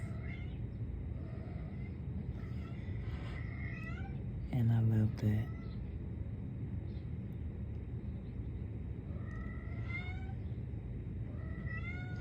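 A mother cat meows to her kittens indoors, with a few drawn-out calls and one loud close meow, while a person talks over them throughout.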